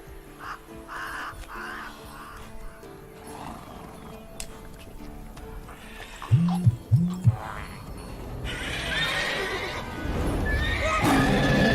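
Roach, Geralt's horse in The Witcher 3 game, lets out a loud whinny among crow caws and ambient game sounds, with a rising noisy rush in the final seconds.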